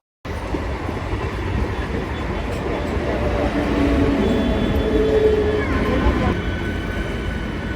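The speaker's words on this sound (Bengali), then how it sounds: "এই বালি স্টেশন ছেড়ে দিল," A local train leaves Bally station with a loud, continuous rumble and roar of wagons rolling close by, building slightly midway and holding steady to the end.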